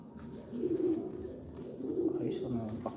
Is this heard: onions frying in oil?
no